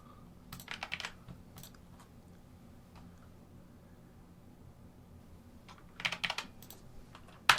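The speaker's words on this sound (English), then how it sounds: "It's called a Bloody keyboard, Bloody Light Strike keyboard." Typing on a Bloody Light Strike keyboard, whose keys use UV light in place of springs: two quick bursts of clicky keystrokes, near and fairly loud, separated by a stretch of faint room noise.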